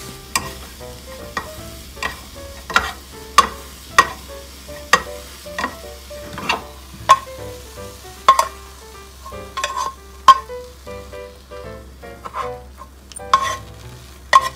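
Dashi-seasoned rolled omelette made with white dashi, cooking in a home frying pan over low heat, with a steady soft sizzle broken by repeated sharp taps and scrapes of the utensil pressing the egg against the pan edge, no talk.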